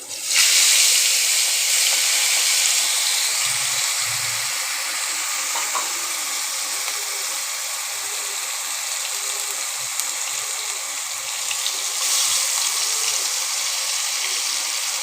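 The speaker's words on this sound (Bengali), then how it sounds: "এই যে এবার একটুখানি তেলের মধ্যে কালো জিরে ফোড়ন দেওয়া হলো।" Nigella seeds temper in a little hot oil, sending up a steady, close sizzling hiss that holds evenly throughout with no talking.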